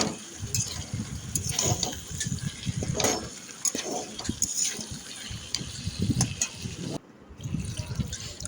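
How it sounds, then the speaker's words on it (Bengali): Water poured into a pan of kata chorchori during cooking, splashing and trickling in uneven bursts with intermittent bubbling, close by and fairly soft. "আর একটু জল দিয়ে দিলাম"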